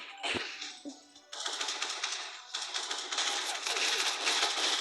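Rapid bursts of gunfire in the mobile game MadOut 2, a few isolated shots at first, then sustained fast automatic fire that rattles on continuously.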